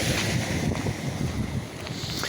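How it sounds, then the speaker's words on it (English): Water rushes steadily through a grated channel in an old agricultural area of town, a continuous broadband roar heard close by, mixed with some wind, with no talking. "I can really hear the water rushing through it."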